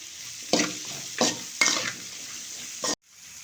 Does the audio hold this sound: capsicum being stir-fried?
yes